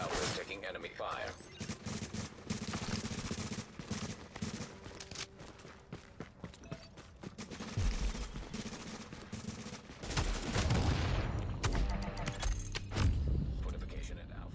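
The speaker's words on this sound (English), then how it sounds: "A fortification at Alpha is taking enemy fire" Enemy gunfire hitting a fortification in The Division, volleys of automatic shots and impacts that come and go in bursts and swell near the end, with talk over them.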